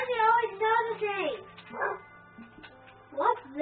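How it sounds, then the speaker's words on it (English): A dog in the Minecraft video game gives a few whining yips and short barks, with pitched whimpering sounds spaced across the moment, fairly close and clear. "What the heck is that dog just do?"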